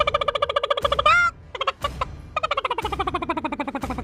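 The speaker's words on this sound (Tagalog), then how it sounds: "Dito nyo lang narinig yung manok na yan." Rooster crowing sound effect played during a mobile game tournament stream: several long, harmonic crows, loud and close, separated by short pauses with a brief squawk and clatter between them, no talking over it.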